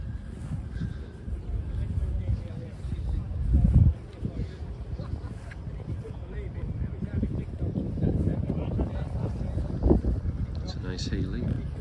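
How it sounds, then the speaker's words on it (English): Gusty wind roars and buffets the microphone outdoors at a classic car show in Ripon, a low rumbling rush that swells briefly near the middle and continues throughout. "It's quite windy though."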